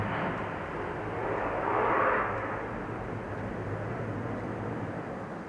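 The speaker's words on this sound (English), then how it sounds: "airplane coming by" An airplane passes overhead as a steady broadband rumble that swells to a peak around the two-second mark and then eases off, filling the whole stretch with no one talking.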